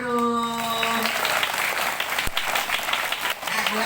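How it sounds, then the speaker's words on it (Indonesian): Schoolchildren at an Indonesian elementary school clapping for their teacher, a continuous fast patter of small hands with some voices and a brief tonal call at the start. "tepuk tangan dong buat Pak Guru."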